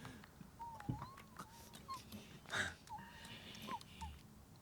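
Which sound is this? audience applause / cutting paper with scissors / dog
dog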